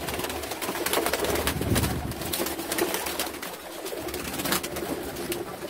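Pigeons in a rooftop loft of breeding pairs and young birds, with several soft, overlapping coos running steadily throughout against a constant background hum.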